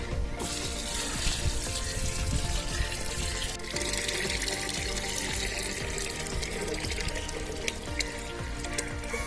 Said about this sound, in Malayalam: ഇനി നമ്മൾ ഇതിലേക്ക് വെള്ളം ചേർക്കാൻ പോവുകയാണ്.